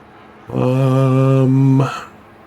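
Dairy cattle in the Farming Simulator video game let out a single loud, drawn-out moo lasting over a second, close and clear with nothing else around it.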